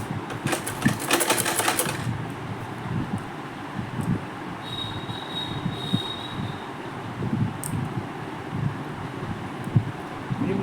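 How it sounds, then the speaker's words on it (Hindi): A sewing machine, noisy from long disuse, runs a straight stitch along the folded edge of blouse fabric with a continuous rough rumbling whir. A brief brighter rattle comes at the start, and there is no talk. "मेरी मशीन बहुत दिन बाद चला रही हूँ ना, तो थोड़ी आवाज़ कर रही है गाइस"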